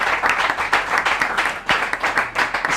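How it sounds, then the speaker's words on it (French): Audience applause at a school quiz competition, a steady dense patter of many hands clapping with rhythmic swells, loud and near with no talk over it. "On l'applaudit très fort."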